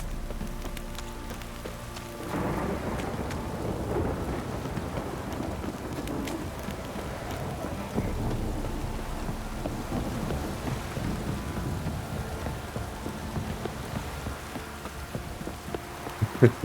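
Steady rain with rumbling thunder in the game Witcher 3 Wild Hunt, a continuous storm wash that swells after a couple of seconds and holds loud and close, with rolls of thunder under the downpour.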